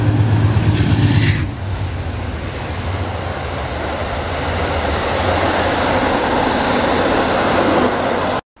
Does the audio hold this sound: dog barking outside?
no